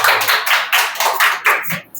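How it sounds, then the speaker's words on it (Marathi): Students in a classroom clap in a quick burst of several sharp, loud claps lasting about two seconds, with no talking over them. "छान, टाळ्या वाजव."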